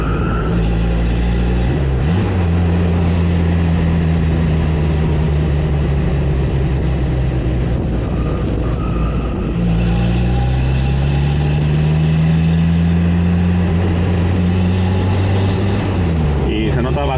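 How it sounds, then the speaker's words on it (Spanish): A Renault Caravelle S with a twin-carburettor engine driving, its loud, continuous engine drone dipping and rising in pitch through gear changes, with steady road noise. "este motor de doble carburación"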